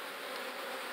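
Steady, dense buzzing of a honey bee swarm at a hive, continuous and close with no pauses or voices.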